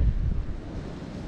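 Gusty wind sweeps across a fishing lake, buffeting the microphone with low rumbling blasts that are strongest at the start, then settle into a steady rushing noise, with no speech.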